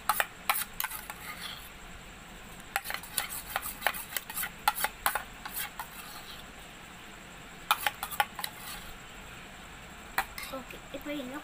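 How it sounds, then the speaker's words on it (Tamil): Fevigum slime being stirred with a homemade activator, giving faint, intermittent sticky clicks and scraping taps in uneven bursts against a quiet background. "இதை நல்லா மிக்ஸ் பண்ணிக்கலாம்"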